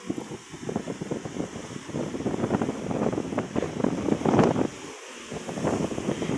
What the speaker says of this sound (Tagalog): Sobrang lakas ng hangin, Maki.